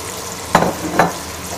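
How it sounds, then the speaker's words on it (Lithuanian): Boiled ram testicles fry in heated oil with a steady, close hiss. Two brief stirring scrapes rise over the sizzle about half a second apart. "kepsime apvirtas sėklides ant aliejaus įkaitinto"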